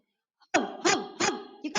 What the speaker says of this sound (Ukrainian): Підійшли вони до хатки, загавкали собаки